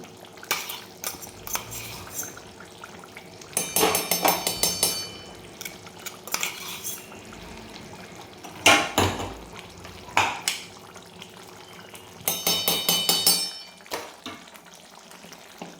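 Chicken tossed with a secret masala in a pan, metal spoon scraping and clinking against the pan in bursts of stirring with quieter pauses between, close and fairly crisp, no talking.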